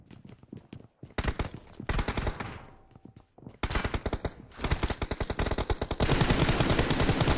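Gunfire in the mobile shooter game BGMI, with rapid automatic bursts of shots in quick rhythmic volleys, loud and close, broken by short pauses and ending in dense continuous firing.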